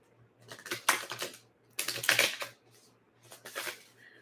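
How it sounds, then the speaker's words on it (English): Playing cards being shuffled by hand for a psychic reading, three separate bursts of crisp riffling rustle with short pauses between them, close and clear with no talking. "I'm still just shuffling."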